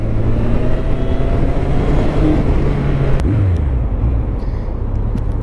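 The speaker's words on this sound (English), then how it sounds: "Stock exhaust on this purrs like a kitten, man. Quite quiet indeed." A Honda CB1100 motorcycle with stock exhaust hums low and steady at close range, a smooth, subdued rumble with slight shifts in pitch as it rolls along.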